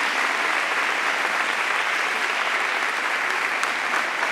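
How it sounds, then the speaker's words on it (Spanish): Loud, sustained applause from a large audience at a provincial education congress, an unbroken roar of many hands clapping at an even level throughout. "vamos a pedir un fuerte aplauso para ellos y ellas"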